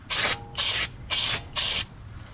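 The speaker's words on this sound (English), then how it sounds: "I'm going to go ahead and clean this up with some brake clean" Four short, even bursts of brake cleaner spray hiss onto a car's brake hub, close and loud, with brief pauses between them.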